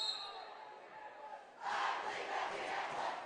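A crowd at a high school boys' basketball game between Staley and OP starts chanting loudly and together after a quieter start, with broadcast commentary underneath.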